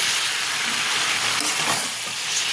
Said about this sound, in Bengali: সব পালং শাকটা দিয়ে দিলাম, একটু নেড়ে নেব